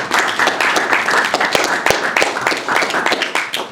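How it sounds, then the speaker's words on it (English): A small group claps at a city council meeting, the sharp individual hand claps close and uneven, with a few louder slaps standing out over a few seconds. "he deserves a round of applause for doing a great job"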